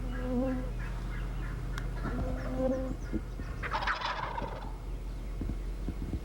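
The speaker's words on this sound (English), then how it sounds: "these two young gobblers appeared" Two young wild turkey gobblers gobble in spring woods, several loud rattling gobbles close by followed by fainter calls and rustling.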